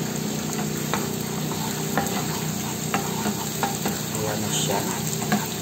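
Garlic sizzles steadily in hot frying oil in a pan, a continuous crackling hiss with occasional stirring clicks; a voice speaks briefly over it.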